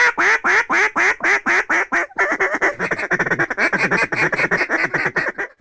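Near and loud, ducks quack in rapid repeated bursts over a duck hunting spread, first a regular series of single calls, then a denser overlapping chatter of several birds.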